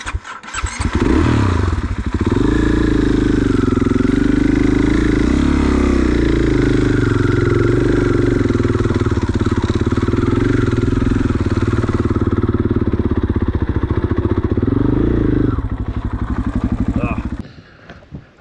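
A dirt bike climbing an OHV trail at Stonyford, its engine droning loud and close almost throughout with revving swells, then cutting off near the end; speech is faintly mixed in.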